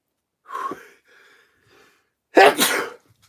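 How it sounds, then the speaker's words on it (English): A single sharp sneeze bursts out after a soft intake of breath and a few faint breathy sounds. "You're making me sneeze."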